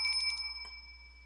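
A small bell attached to Noir in the game Cloé's Requiem jingles briefly in a quick tinkling burst, then gives one fainter ring before fading into quiet.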